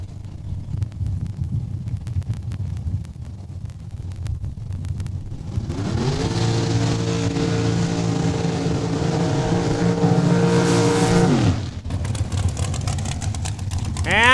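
A drag racing car at Saskatchewan International Raceway in Saskatoon warms up its rear tires with a burnout: a loud, sustained engine roar climbs steadily in pitch for about six seconds and then cuts off abruptly, with idling engine rumble before and after.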